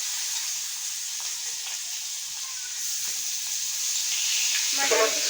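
Fish pieces go one by one into hot oil, raising a soft continuous hiss and sizzle that swells slightly toward the end, with brief stirring clatter.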